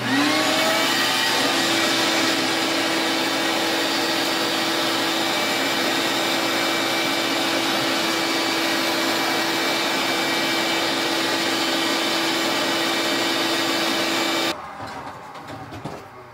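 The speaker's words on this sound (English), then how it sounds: "the next step would be to vacuum all of that off of there" A vacuum cleaner runs loud and steady with a high whine for a long stretch, cleaning a stained glass window, then cuts off abruptly near the end.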